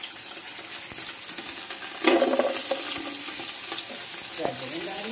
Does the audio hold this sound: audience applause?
no